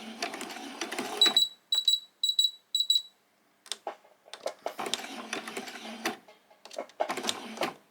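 A home sewing machine runs a few forward stitches and then back stitches on a summer top, in short whirring bursts with brief pauses between them. Small beeps come from the machine, and the motor runs again in longer stretches.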